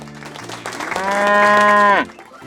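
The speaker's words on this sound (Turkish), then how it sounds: "İnek." A single cow gives one long, loud moo that swells and holds steady before cutting off sharply, with quieter rustling before and after.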